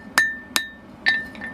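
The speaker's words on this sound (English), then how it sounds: "the next method we're going to use is the set hammer" Three sharp, ringing strikes of a set hammer on hot steel during forging of blacksmith tongs on an anvil, each leaving a bright metallic ring that decays, spaced unevenly, close and loud with no speech.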